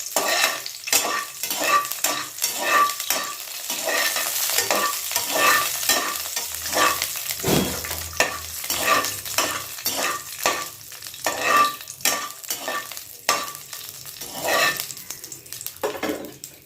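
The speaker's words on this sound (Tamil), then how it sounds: "இதில் நல்லா பொரியட்டுங்க. திராட்சை முந்திரி பருப்பு ரோஸ்ட் ஆகணுங்க." Cardamom, raisins and cashews frying in a pan for betel kesari, with steady sizzling under repeated scraping stirs of a utensil against the pan, close and fairly loud, no talking.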